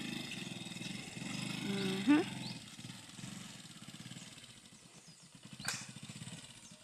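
A motorcycle engine revs and pulls away in a one-way queue, its steady putter running under people talking, with a sharper rev early on and a louder spike later.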